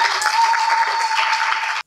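A ceremony audience applauding together, with dense steady clapping at full strength for under two seconds before it stops abruptly, and a thin steady tone running beneath it.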